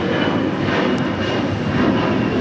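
A United Airlines Boeing 787-10 Dreamliner taxis across a runway at LAX, giving a loud, steady broadband engine rumble and hiss that stays constant the whole time, close by and with no talking.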